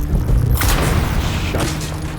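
Thrown explosive going off in the video game Dune Awakening, a heavy low boom that swells suddenly and rolls on with rumbling debris, loud and close.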